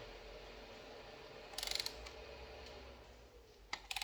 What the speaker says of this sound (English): I just don't have another ratchet here, so I'm just going to continue to use this one.